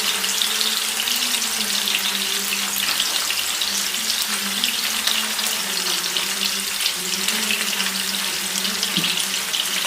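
Fish shallow frying in oil in a covered pan gives a steady, even sizzle with a soft hiss throughout, close and continuous, with no talking.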